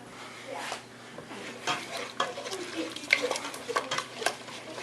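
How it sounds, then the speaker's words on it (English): A spoon stirring egg yolks into a batter for an old-fashioned recipe, soft scraping and light clinks against the bowl, close by and fairly quiet, with faint background noise. "Alright, so we're gonna stir this."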